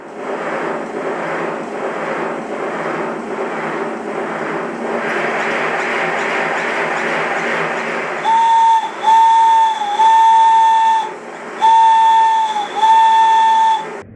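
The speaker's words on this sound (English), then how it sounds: "I must say that the whistle does sound really good." Rhythmic steam hissing and chuffing from a small model Stirling Single steam locomotive on a rolling road gives way to four shrill whistle blasts, close and loud, in two pairs.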